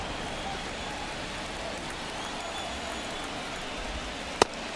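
Steady rain falls on a baseball field in MLB The Show 24, a continuous wash of drops hissing evenly throughout, with one brief sharp tick near the end.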